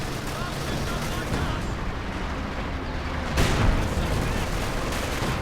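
Gunfire and sniper shots in the Company of Heroes 2 World War II strategy game, a busy battlefield din with scattered cracks and a louder burst midway, continuous background combat throughout.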